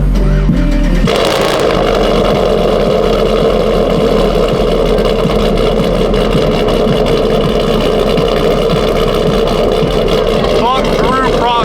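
A cammed truck engine idles roughly and loudly at a truck show, its lope shifting in character rather than holding steady, with people talking nearby over it.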